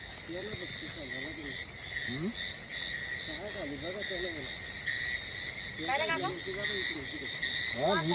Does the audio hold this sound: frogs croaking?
yes